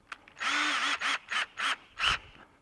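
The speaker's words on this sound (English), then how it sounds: "I'm drilling down into the trash can" An electric drill whirs in several short bursts, the first longest, then repeated quick pulses of the motor spinning up and down, close and clear, drilling into a ceiling backer board while installing a security camera.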